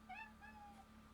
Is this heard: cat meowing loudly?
yes